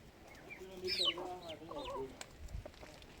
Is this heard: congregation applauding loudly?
no